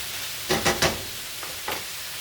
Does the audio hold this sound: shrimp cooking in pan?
yes